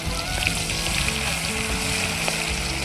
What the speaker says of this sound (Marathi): जिरे छान लालसर होईपर्यंत तळू द्यायचे।